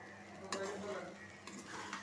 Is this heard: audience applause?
no